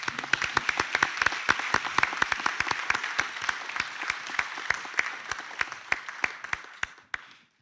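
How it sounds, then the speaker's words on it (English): At a graduation ceremony a crowd gives graduates a sustained round of applause, with steady claps under a dense wash of clapping that holds evenly before cutting off. "Please give the graduates a round of applause."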